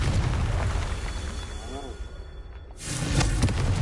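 A Confringo blast spell explodes in the video game Hogwarts Legacy, heard as a loud rumbling burst followed by a fading tail and then a second surge of blast noise.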